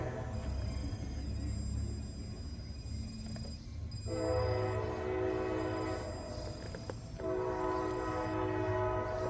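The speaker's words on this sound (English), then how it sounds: "train is just going to town with that horn, isn't it?" Train horn blaring in loud sustained blasts with brief breaks between them, a few seconds each, over a steady low rumble of the moving train.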